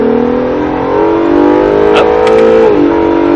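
Acura NSX accelerating hard on a race track, heard from inside: a loud, steady engine roar with rising pitch, a quick shift dip near the end, and brief instructor calls over it.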